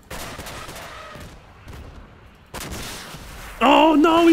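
Gunfire in the Crossout vehicle combat game: a few sharp shots and bursts crack over engine rumble, followed by a loud, tonal whining blast near the end.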